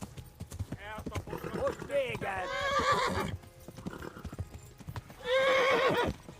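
A horse's hooves clip-clop at a gallop while it neighs and whinnies loudly twice in the medieval game Kingdom Come: Deliverance, with a voice talking over the hoofbeats.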